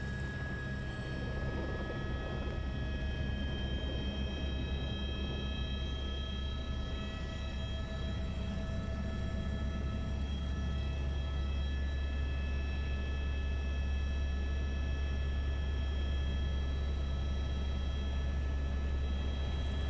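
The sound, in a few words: helicopter in flight from Jomsom to Kathmandu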